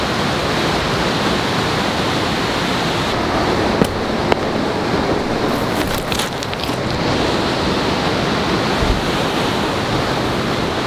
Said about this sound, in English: so you can hear the waterfalls that are farther away